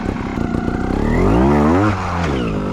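Trials motorcycle engine revving hard up through the range, then easing and shifting into second gear, pitch sweeping upward and dropping as it changes, close and loud with no talk.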